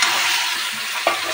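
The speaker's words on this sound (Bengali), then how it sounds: "টমেটোগুলো ভাজা হবে এর সঙ্গে" Chopped tomatoes fry with onions in a pan, making a close, even sizzle, with a brief knock of a stirring spoon just after the start and another near the end.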